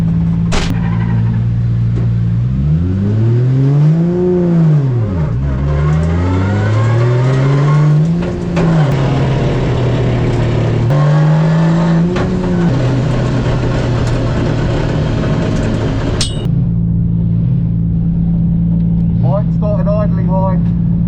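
A drift car engine revs on track at a British Drift Championship round, pitch sweeping up and down in repeated loud throttle blips over about sixteen seconds before settling to a steady high idle, with voices talking faintly underneath.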